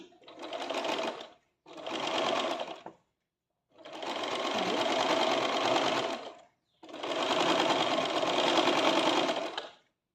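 A sewing machine runs in four sustained bursts, stitching the side seam of a churidar, each run steady and close with short pauses between.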